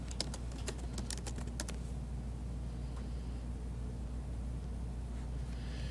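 Fingers type a short search on a computer keyboard, producing a quick burst of close, crisp key clicks over a steady low hum, then the typing stops.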